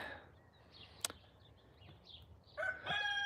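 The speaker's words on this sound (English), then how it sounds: "These roosters are so loud." A rooster crows at a distance near the end, its call rising over quiet background with a sharp tap earlier.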